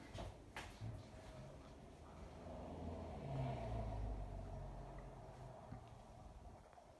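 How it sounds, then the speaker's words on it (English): A 52-inch Hunter Passport II ceiling fan in bright brass with a schoolhouse fitter winds down after being switched off, giving a soft, steady low rumble that swells and then slowly fades, with a few light knocks. "I'm going to shut off the light fan and do a spin down"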